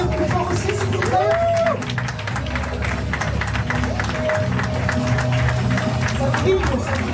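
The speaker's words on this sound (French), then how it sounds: "On peut l'applaudir plus fort aussi, s'il vous plaît." Steady crowd applause with scattered cheering at a press conference for a film festival fills the space, while an amplified voice carries on over it.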